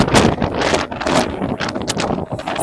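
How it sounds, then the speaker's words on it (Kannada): Gusting wind buffets the microphone on a hilltop temple trek in Karnataka, loud and roaring in uneven surges with no talk. "ಗಾಳಿ ನೋಡು ಭೂಷಣ್."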